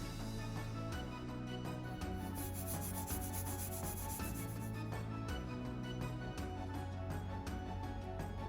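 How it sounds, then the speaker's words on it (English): A Dremel cutting wheel grinding weld seams on a bronze turtle-shell casting, a continuous close abrasive rasping with repeated strokes and a high whine, steady and fairly quiet. "I use a cutting wheel on my Dremel to help grind away the welds and blend it in"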